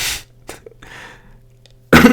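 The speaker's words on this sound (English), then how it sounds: "I've been coughing a little bit" A person coughs a few times at close range, with short bursts separated by quiet breathing and a louder, harsher burst at the end.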